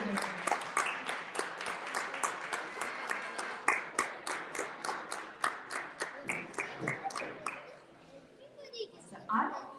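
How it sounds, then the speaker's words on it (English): A crowd claps steadily and loudly at the Margazhi Vizha 2022 performance, individual claps audible in a dense rhythmic patter that thins out near the end, with faint voices underneath. "Please do a big round of applause."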